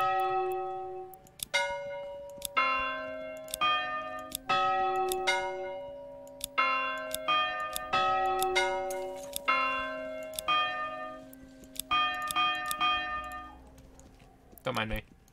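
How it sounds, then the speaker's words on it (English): A church bell in the video game Manor Lords rings in a long, repeated series of resonant strikes with lingering overtones, each stroke clear and moderately loud, ending with a low thump. "Oh, bell sound."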